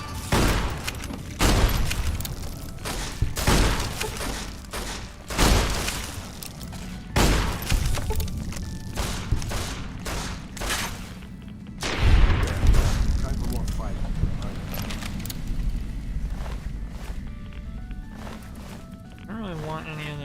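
Gunfire in Fallout: New Vegas, a run of loud booming shots and bursts at irregular intervals through a cave fight, with someone talking over much of it.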